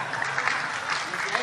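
An audience applauds Kiai Haji Agus Ali Mazhuri at a religious gathering, a steady wash of many hands clapping throughout with no break.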